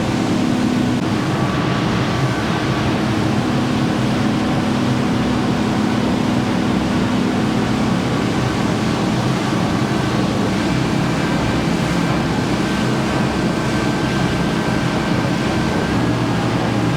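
Boat with a 300HP Mercury Pro XS outboard running at 3800 RPM on the Ross River: a loud, steady engine drone mixed with constant rushing water and wind noise, unbroken throughout.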